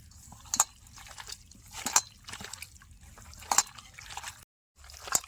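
Raw meat kneaded and mashed by hand with spices and chilli powder, a wet squelching and slapping in repeated bursts about every second and a half, close and fairly loud, with a brief pause near the end.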